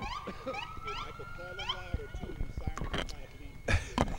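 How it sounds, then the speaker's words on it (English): Police car sirens from the Richmond Hill Police Unit wail through a Christmas parade in Richmond Hill, Georgia, rising and falling in repeated sweeps at moderate distance, with people talking and crowd noise around them. "It does get loud with the sirens in the background."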